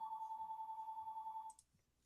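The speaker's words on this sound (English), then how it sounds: "Excuse my landline phone going off here." A landline telephone rings with a steady, rapidly trilling electronic tone for about a second and a half, then cuts off, leaving a few faint clicks and quiet room noise.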